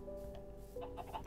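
A Minecraft chicken, changed into a turkey by a mod pack, gives a couple of quick, faint clucks in a brief burst.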